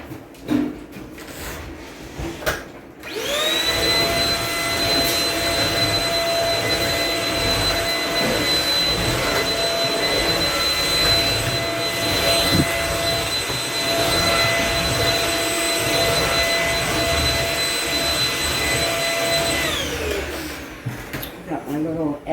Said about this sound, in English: Got my little edger thingy somewhere. Let it go in these corners.